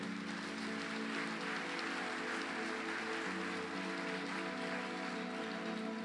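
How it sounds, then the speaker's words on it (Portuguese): Church congregation applauding loudly together during a Portuguese-language evangelical sermon, a steady dense wash of clapping that stays even throughout, with a faint hum beneath and no speech. "Aplauda forte ao Senhor Jesus se você crê"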